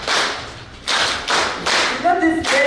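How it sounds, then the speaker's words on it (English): Audience members at a scholarship award ceremony clap in a few sharp bursts, loud and close, with a voice briefly heard near the end. "You will clap for me."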